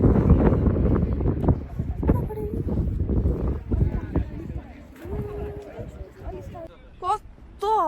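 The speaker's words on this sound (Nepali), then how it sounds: "कस्तो हावा चलेको" Strong wind at Dhumba Lake in Mustang buffets the microphone with a heavy, rumbling roar that is loudest at first and then gusts unevenly. A person speaks intermittently over the wind.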